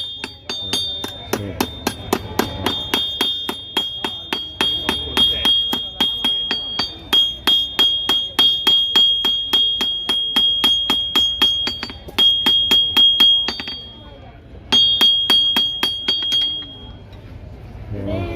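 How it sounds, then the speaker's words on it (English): A smith at a medieval reenactment event in Belgioioso, Italy, beats red-hot metal with a hammer, sending out steady, rapid ringing metallic strikes, loud and close, with brief pauses near the end and faint voices behind. "took out a very red, and now he's beating it up with the"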